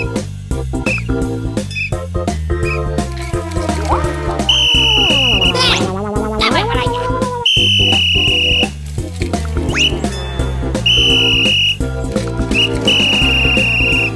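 Sharp, shrill traffic whistle blasts in an animated cartoon traffic jam repeat several times, each held for about a second, loud over a dense musical backing with no talking.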